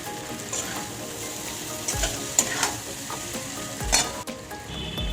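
Chow mein noodles are stir-fried and tossed in a pan with a steady sizzle. Scraping and clanking from the spatula breaks through in bursts, with sharper knocks around the middle and near the end.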